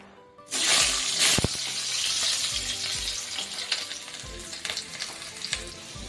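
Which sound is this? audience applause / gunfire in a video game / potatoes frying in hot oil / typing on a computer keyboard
potatoes frying in hot oil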